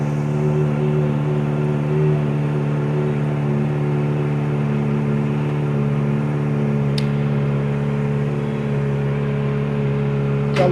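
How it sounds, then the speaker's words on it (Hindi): A motorcycle fitted with a Yoshimura full-system exhaust idles steadily while warming up after sitting unused for a long time, with a low continuous engine hum throughout and one brief click near the end. "इसके अंदर भी योशीमुरा का फुल सिस्टम एग्जॉस्ट लगा हुआ है, तो इसकी भी आवाज़ मस्त है।"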